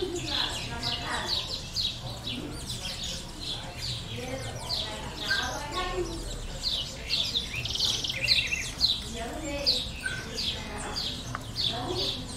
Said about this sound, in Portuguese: Isso aí, o pica-pau de cabeça amarela.